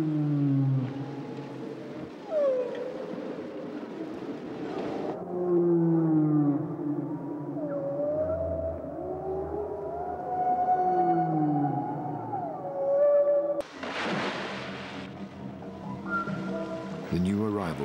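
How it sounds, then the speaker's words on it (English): Whale song fills the water: long, sliding moans and rising whistles sweep up and down, layered and resonant, with a burst of clicky noise near the end. "what the sea sends are the seductive songs of the whales"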